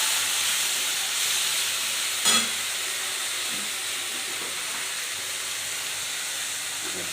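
Taro leaf frying in a pan, a constant loud hissing sizzle that stays even throughout, broken once by a brief sharper crackle.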